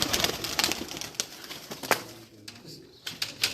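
Pigeons on a rooftop flutter and coo nearby, with bursts of wing flaps and scuffling over a quieter stretch of soft cooing.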